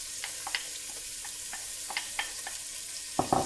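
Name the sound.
onion frying in heated butter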